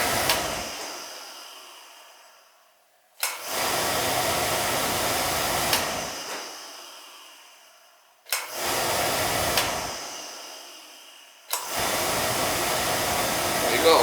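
A Beckett oil burner fitted with a new motor roars with a steady blower hum, cutting off and restarting repeatedly as it cycles, each start a sharp surge to full loud drone that then slowly fades.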